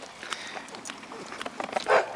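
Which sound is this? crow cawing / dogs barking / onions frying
dogs barking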